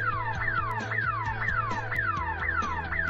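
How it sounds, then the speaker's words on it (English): A police car siren gives a fast, repeating whoop, each cycle rising sharply and then dropping, about two per second. It sounds loud and steady, with a low engine drone underneath and no talking. "Police car."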